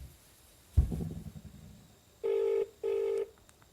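A telephone call goes out. A soft thud and some rustling come first, then two long ringback tones sound close, clear and evenly spaced.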